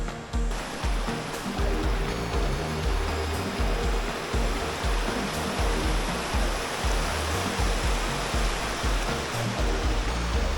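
Waterfalls tumbling down the walls of a high Pyrenees mountain cirque, a loud, constant broadband roar of falling water that holds steady throughout.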